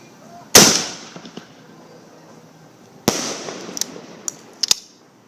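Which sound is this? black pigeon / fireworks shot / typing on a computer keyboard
fireworks shot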